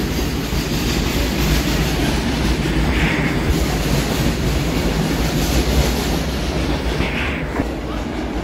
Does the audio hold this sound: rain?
no